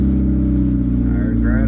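A Honda Civic EK engine catches and settles into a steady running drone, close and loud, with a voice talking over it.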